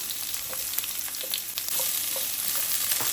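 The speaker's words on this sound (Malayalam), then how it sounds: "ഇനി ഇതിലേക്ക് ഉള്ളി ഇഞ്ചി വെളുത്തുള്ളി ചേർത്ത് കൊടുക്കാം" Onion, ginger and garlic frying in hot sunflower oil for a paneer masala, a steady close crackling sizzle with scattered pops and occasional stirring, no voices.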